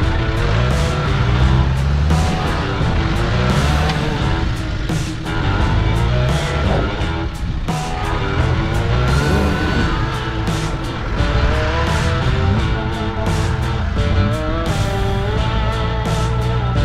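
A Land Rover Defender engine revs hard while off-roading at a Land Rover club event, loud and close with rising and falling throttle, tyre scrabble and skidding noise.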